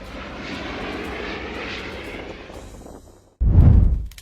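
A fixed-wing airplane passes overhead, its engine drone steady and fairly loud for several seconds before fading, then cut off by a sudden deep rumble.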